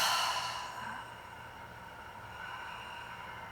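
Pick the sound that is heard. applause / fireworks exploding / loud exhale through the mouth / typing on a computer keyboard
loud exhale through the mouth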